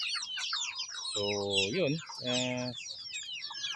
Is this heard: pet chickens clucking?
yes